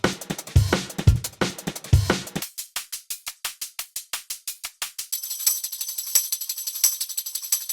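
Three drum and bass drum loops play one after another, each in turn: first a heavy kick-and-snare break, then a sparse, clicky rhythmic loop, then a thin, ticking loop over a bright high shimmer, all steady and close with no voices.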